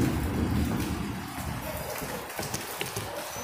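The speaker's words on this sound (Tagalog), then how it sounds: "umuulan na siya" Steady broadband patter of rain falling, fairly close and continuous, with a few sharper drips and taps standing out near the end.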